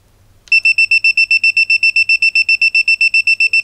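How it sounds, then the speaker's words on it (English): An ANENG SZ02 multimeter sounds its live-wire alarm: after a brief quiet moment, a rapid, evenly pulsed high-pitched electronic beeping starts and continues loud and close. "With the alarm beeping."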